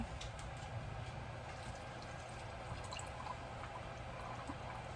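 Pickle brine poured into a canning jar makes faint trickling and dripping sounds that run steadily and softly throughout, with no talk.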